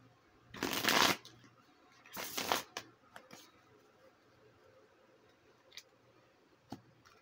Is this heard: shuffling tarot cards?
yes